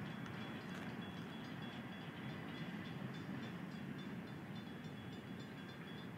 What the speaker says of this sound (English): can't see the end of the train. Still rolling along.